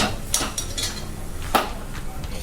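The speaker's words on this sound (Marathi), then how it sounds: "गॅस बंद करून बडगीमध्ये काढून घेऊया ठेचण्यासाठी" Roasted green chillies moved from the pan into a pot, metal utensils clinking in a few distinct sharp taps over a low background hiss.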